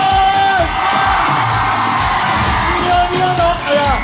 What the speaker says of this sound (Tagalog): One more time, isa pa nga, madinig ang malakas sa sigawan!